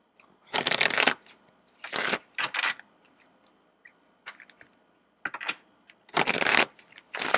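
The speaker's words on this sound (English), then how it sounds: "And let's shuffle you some tarot." Tarot cards being shuffled in several short riffling bursts, separated by quieter pauses with light handling noises, close up and without talk.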